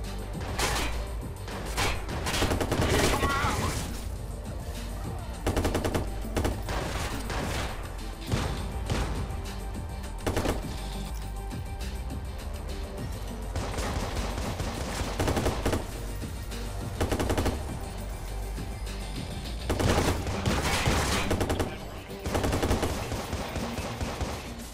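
Gunfire in the Watch Dogs video game, with rapid bursts of shots and automatic weapon fire crackling loudly and steadily over a dense, busy game soundtrack for the whole stretch.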